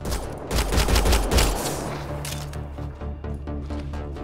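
Gunfire in the video game Mass Effect Andromeda: a loud rapid burst of shots dominates the first second and a half, then sparser, fainter shots continue over a low sustained hum.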